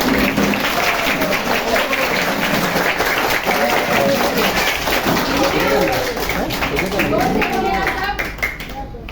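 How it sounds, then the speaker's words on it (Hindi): Loud, sustained applause from a school audience fills the whole stretch, dense clapping with shouts and voices mixed in, tapering slightly near the end. "आप लोग एक बार जोरदार ताली बजाएंगे।"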